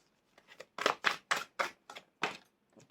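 A quick series of crisp, papery riffling bursts as tarot cards are shuffled close by, about eight snaps in an uneven rhythm.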